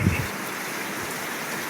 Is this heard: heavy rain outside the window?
yes